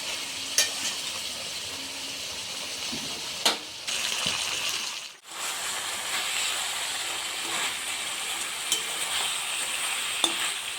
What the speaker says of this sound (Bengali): মাঝে মধ্যে চিকেনটাকে নেড়ে নিতে হবে।